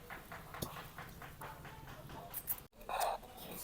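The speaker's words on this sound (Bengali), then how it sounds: "এখন শিলপাতায় গুঁড়া করে নিব" Roasted cumin is ground on a flat grinding stone, the stone rubbing in quick, regular back-and-forth strokes, close and fairly quiet.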